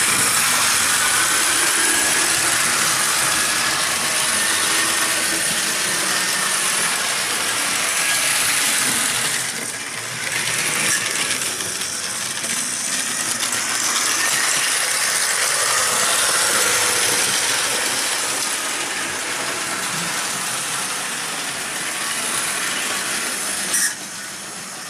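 Tyco Chattanooga Choo Choo model locomotive running under power, a loud continuous whirring motor hiss with rattling mechanical noise close up, briefly dropping around ten seconds before resuming steadily.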